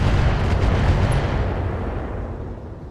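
Indirect artillery fire in the mech combat game RogueTech: a loud, sustained rumbling blast that slowly fades away over a few seconds, heard alone.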